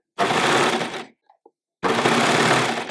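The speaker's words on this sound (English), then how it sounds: "once you've overlocked around the exterior edge of the facing" An overlocker runs around the outside edge of a garment facing in two loud, fast buzzing bursts, separated by a short pause with faint clicks of handling.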